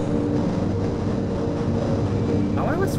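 A tram rolling through the Half-Life video game, a steady mechanical rumble with a rising electronic whine near the end.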